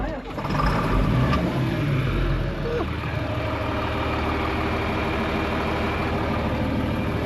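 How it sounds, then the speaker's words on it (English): A heavy tractor engine turns over and catches, then settles into a steady low rumbling idle close by. "I'm gonna fire this tractor up"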